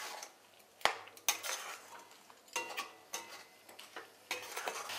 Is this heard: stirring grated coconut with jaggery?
yes